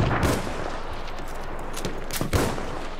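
Several bursts of gunfire from Battlefield 1 crackle against a steady battle din, with sharper, louder shots landing near the end.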